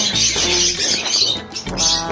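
Many small aviary birds chirp and twitter continuously, a dense overlapping chorus of high tweets filling the space at moderate loudness with no voices.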